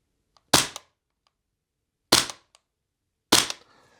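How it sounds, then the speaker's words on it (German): An Archwick B&T APC9K Pro SD2 gas blowback airsoft gun fires three sharp single shots, each a crisp close crack with a short mechanical clack, spaced by quiet gaps. "Also lasse ich es bei Einzelfeuer. Ich lade einmal durch und dann gucken wir mal, was passiert."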